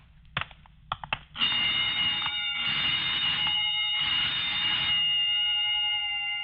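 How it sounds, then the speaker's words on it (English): A burglar alarm being tested rings indoors in a loud, steady electronic tone that cuts out and restarts in a few bursts, preceded by several sharp knocks or clicks, with no talking. "just testing the burglar alarm, I guess"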